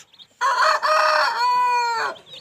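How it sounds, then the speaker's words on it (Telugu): Kathi kalu fighting roosters of the Kakinemali type, standing 23 to 24 high, give one loud, close, drawn-out crow that rises, holds and falls off at the end, with no other sound around it. "మీకోసం ఒక ఆరు కత్తికాల పుంజులు నేను ఇప్పుడు మీకు పెడుతున్నాను"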